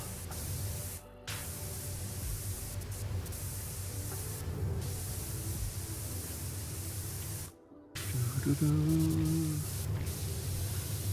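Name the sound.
pressure washer spraying, video game PowerWash Simulator 2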